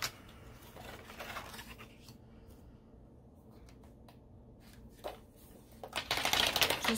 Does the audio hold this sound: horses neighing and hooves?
no